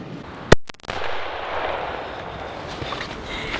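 A single sharp rifle shot cracks out loud and close during a Nova Scotia whitetail deer hunt, followed by a rolling echo that fades into outdoor ambience.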